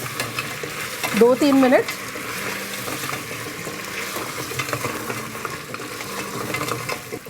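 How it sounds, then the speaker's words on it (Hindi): Food stirred and frying in a pan sizzles steadily, with a brief scraping stir near the start and a short voice speaking over the cooking. "इसको हिला लेते हैं, इसको भून लेते हैं"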